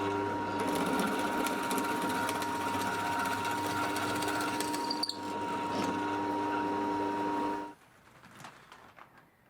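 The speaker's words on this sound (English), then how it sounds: "So I will just drill those out and plug them up." Power drill boring out wooden plugs from a hardwood offcut in a woodworking shop, a steady loud motor whine with harmonic hum running for about seven and a half seconds before cutting off, then faint handling noise.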